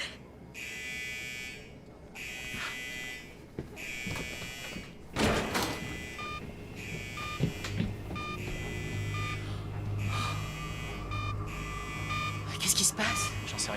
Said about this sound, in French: Il y a peut-être le feu, c'est une alarme.